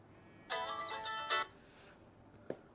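A phone ringtone sounds for an incoming call: a short, bright melodic ring of about a second, fairly faint and alone, followed by a brief click.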